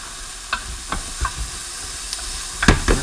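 Onions sweat in a pan for a lamb curry, with a soft, steady sizzle underneath and a few scattered stirring scrapes and clinks, close by and with no talking.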